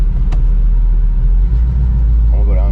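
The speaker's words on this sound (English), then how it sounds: "Sounds like a good motor, you know?" A 1971 Pontiac Formula barn-find engine rumbling loudly at a steady idle, heard from inside the car, with a brief voice near the end.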